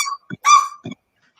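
A corvid mimicking a dog's bark gives three short, loud, close bark-like calls with brief gaps between them, the middle one longest, then silence.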